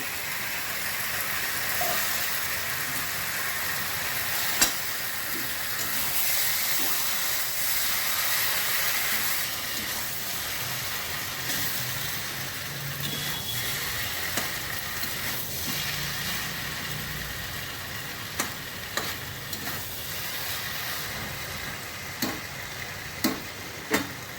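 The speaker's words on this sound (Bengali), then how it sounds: "ভাজা চিংড়িগুলো দিয়ে দিচ্ছি।" Fried prawns go into a sizzling pan of pumpkin and Malabar spinach curry with green and dry chillies, turmeric and salt. A steady frying hiss carries throughout, with occasional sharp clicks and scrapes of stirring toward the end.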